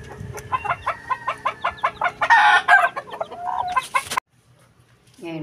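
Chickens and chicks cluck close by, a rapid series of short rhythmic clucks that builds into a louder squawking flurry and then breaks off into near silence.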